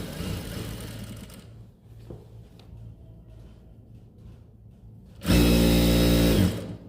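A sewing machine runs a short burst of stitching on a plazo, loud and steady for about a second, following a stretch of quieter rattling and handling noise.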